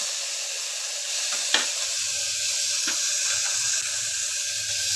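Mustard seeds, cumin and curry leaves sizzling in hot oil in a pan for a greens rice dish, a steady bright crackle with a few sharp pops and light clatter, close and continuous with no speech.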